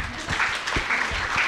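An audience at a national health surveillance coordinators' conference applauding, a dense continuous clatter of many hands, fairly loud and close, with no talk over it.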